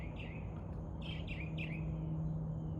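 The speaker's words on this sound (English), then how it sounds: "That bird's sus." Bird chirps outdoors, a short run of about five quick bright tweets at moderate distance over a steady low background hum, no talking.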